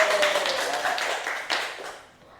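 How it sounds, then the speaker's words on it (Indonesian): A classroom of students clapping hands together in a microteaching lesson, a dense round of clapping that tails off, with voices faintly mixed in. "Kalau kalian suka berpantun, tepuk tangan yang keras boleh?"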